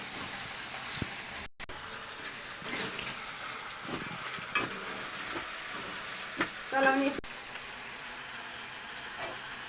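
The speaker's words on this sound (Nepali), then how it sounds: "यसलाई अब यसरी चाहिँ चलाइदिने" Food frying in a pan and being stirred, giving a continuous low sizzle broken by occasional scrapes and clinks, close but soft, with some faint background noise.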